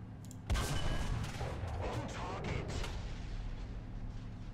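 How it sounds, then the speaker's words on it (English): A tank gun fires in War Thunder, one sharp loud blast at the start followed by a sustained rumbling wash of battle noise, with a Crusader and an A-13 among the tanks in the fight. "we weren't able to land the penetrating shot"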